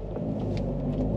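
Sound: Saab 9-3 Aero engine stalling

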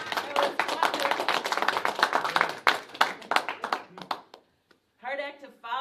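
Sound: audience applauding

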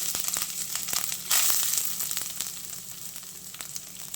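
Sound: grated coconut added to ghee in a pan, sizzling

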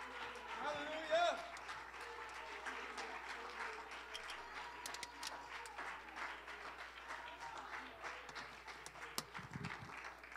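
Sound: congregation clapping hands in praise

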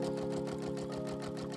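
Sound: embroidery machine stitching book text onto quilt fabric

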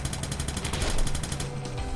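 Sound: gunshots in Gal Guardians Demon Purge video game

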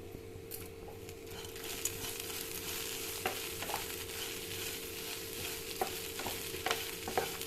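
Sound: cabbage frying and stirring in pan

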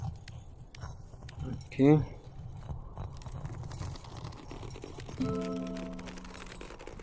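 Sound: horse hooves clip-clopping in VR video game Brass Tactics

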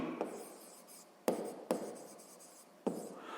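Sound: writing a formula by hand

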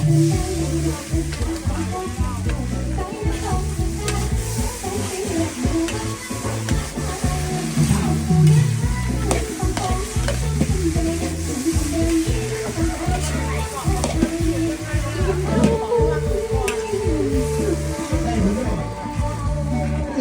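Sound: rice being stir-fried in a pan

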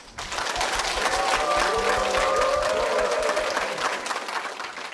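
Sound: congregation applauding

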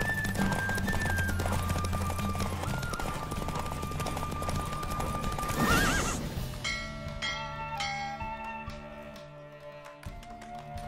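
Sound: horse galloping in a race in the video game Witcher 3

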